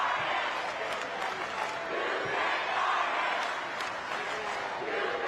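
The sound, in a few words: crowd cheering at high school basketball game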